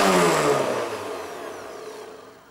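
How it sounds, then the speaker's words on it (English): A Breville Ikon 550 Hemisphere blender whirs loudly at high speed, then its motor steadily winds down and fades over a couple of seconds, with no talking. "Now if I let this rev up to its full speed on the puree button, number five, you can see that's quite a bit louder."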